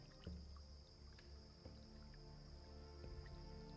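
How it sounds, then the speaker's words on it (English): Water drips into pools in an underground corridor, faint scattered drops landing every second or so over a low, steady background hum. "the sound of water drips into the pools"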